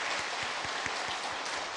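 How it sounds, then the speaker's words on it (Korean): A church congregation applauds newlyweds who married the previous week: steady, moderately faint clapping from many people in a large hall, with a few louder rhythmic claps standing out and no talking. "우리 박수 한번 하도록 하겠습니다"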